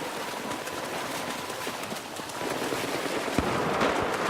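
Rapid video game gunfire from Battlefield 4, dense crackling bursts over a noisy battle backdrop, fairly loud and continuous without speech.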